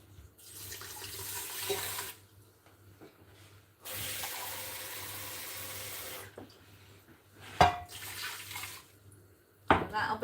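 A kitchen tap runs in bursts while someone cooks, the water gushing loudly for a couple of seconds, stopping, then flowing again, with a few clinks and sink clatters in between.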